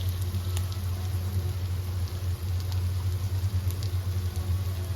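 Ghee goes into mutton bhuna as it finishes cooking, and a soft, continuous sizzle runs under a low steady rumble from the stove or room. Nothing stands out, and no one speaks.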